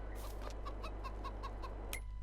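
Chickens in the farming game Farming Simulator 22 cluck in a quick, evenly spaced series of short calls, faint and without any talk.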